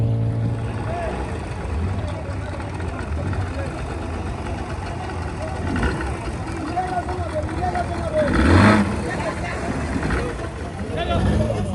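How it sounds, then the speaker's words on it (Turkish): A small motorboat engine hums steadily beside a river while two boats ferry a truck across in Central Africa, with water churn, broadband wash and a brief swell of noise near the end. "Kamyonu iki tane kayığın üzerine koymuşlar."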